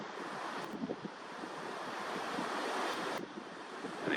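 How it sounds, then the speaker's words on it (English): Surf from the Gulf of Mexico rolls onto the South Texas coast near Boca Chica in a steady, loud wash of waves, with wind buffeting the microphone throughout. "And again, to the right is the ocean, Gulf of Mexico."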